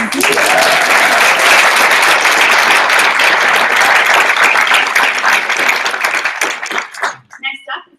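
Audience at a 2016 global health leadership summit giving a loud, sustained round of applause for a speaker, dense clapping holding steady for about seven seconds before thinning into scattered claps and fading out.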